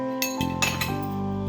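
Steel kitchen vessels clink and ring in a home kitchen, with a few bright metallic knocks whose tones hang on between hits, close and fairly quiet.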